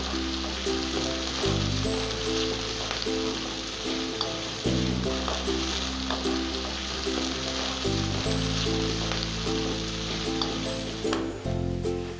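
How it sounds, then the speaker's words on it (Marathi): Thinly sliced onion and fresh grated coconut sauté in a hot pan for a spicy dried-prawn masala, giving a steady, close sizzle with faint stirring over continuous background music. "पातळ चिरलेला कांदा जो आहे तो आपण चांगला टाकून ह्याला मस्त की तांबूस रंगापर्यंत परतून घेणार आहोत"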